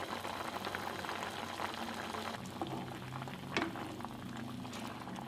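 Chicken in axone gravy simmers in a pot, a continuous close bubbling and gentle burble with a faint sizzle, plus one brief clink partway through, and no voices.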